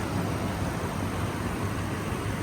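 A large Toyota Sequoia engine idles quietly under the open hood, a soft, even low hum with a faint steady drone and nothing else heard.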